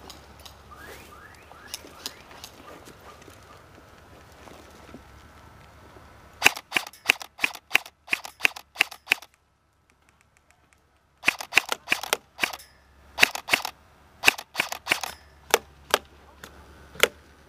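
Airsoft BBs smack into a wooden board outdoors in winter. The strikes come as sharp, close cracks in two rapid clusters, with a quiet stretch between them and faint background noise beforehand.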